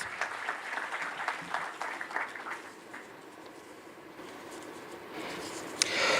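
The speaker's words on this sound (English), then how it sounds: "I'll request all of you to please welcome our esteemed panelists with a huge round of applause" Conference audience applauding to welcome panelists, a moderate wash of clapping that thins and fades toward the end, fairly distant and without talk.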